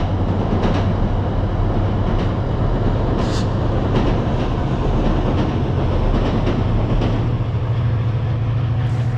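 A loud train rumbles steadily past close by, wheels clattering over the rails with a constant heavy roar for the whole stretch.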